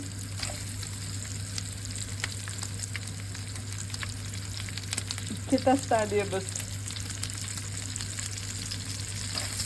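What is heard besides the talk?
onions frying in a pan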